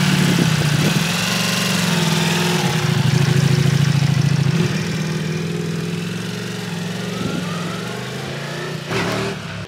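A steady motorcycle engine drones nearby with slight pitch swells as big-bore adventure motorcycles cruise past, ending with a brief louder burst.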